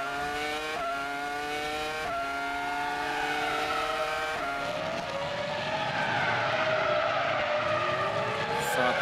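Formula One race cars at the 2004 Bahrain Grand Prix scream past with high, sustained engine whines that rise and fall in pitch as cars pass and shift, loud and continuous, with layered engines overlapping near the end.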